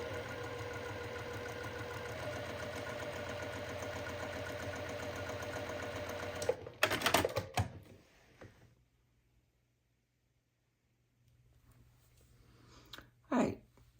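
A sewing machine stitching patchwork quilt pieces for a Churn Dash block runs with a steady, close motor whir for about six seconds, then stops with a clatter, followed by silence and a brief handling noise.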